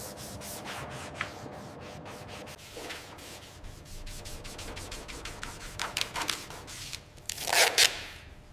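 Close, quiet rhythmic scraping as finer grit sandpaper is rubbed back and forth across a BMW M3 hood during a restoration, with repeated strokes and a few louder, sharper rasps near the end.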